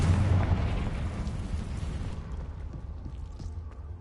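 A Confringo fire spell explodes in Hogwarts Legacy, a heavy booming blast whose deep, rumbling roar fills the start and slowly dies away over several seconds, with no voice over it.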